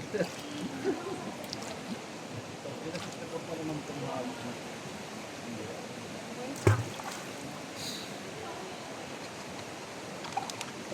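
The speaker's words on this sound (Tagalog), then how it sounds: "Patas lang ng tubig na naririnig mo." Water flows steadily over rocks in a quiet natural stream, a continuous soft rushing wash with a single brief knock partway through.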